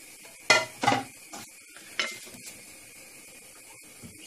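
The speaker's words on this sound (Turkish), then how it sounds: "Şöyle bir karıştırarak güzelce domates sosuyla beraber kaynamasını sağlayacağım." A spatula stirs tomato sauce with meat in a pan for Turkmen doğrama, giving a few distinct scraping clatters early on over a faint simmer, then quieter occasional knocks.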